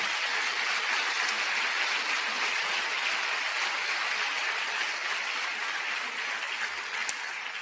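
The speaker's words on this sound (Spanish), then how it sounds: "¿Cuántos le dan un aplauso a él?" A church congregation gives sustained, even applause that fills the room for several seconds and fades slightly toward the end.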